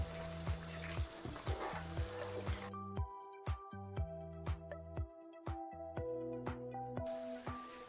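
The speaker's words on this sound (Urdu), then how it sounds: "اس میں میں نے 3 ٹیبل اسپون یوگرٹ اور 3 جو چمچ ہیں یہ آئل کے ڈال دیں، اور اب میں اس کو اچھی طرح اور بھون لوں گا" Lamb and potato curry frying in oil with yogurt, a soft steady sizzle with repeated clinks and scrapes of a spoon stirring the pot, faint and close; no talk.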